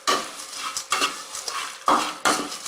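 Dry prawns roast in a pan with bursts of metal spoon scraping and stirring, several quick clattering strokes in an uneven rhythm, close and fairly quiet.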